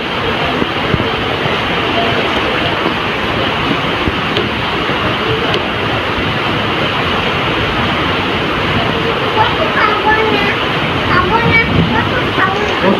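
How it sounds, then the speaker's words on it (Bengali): Heavy rain pours down outside a home during a power cut, a dense, steady roar of hiss that fills the whole stretch with little variation and no pause. "আজকেও অনেক বৃষ্টি হয়েছে বাইরে"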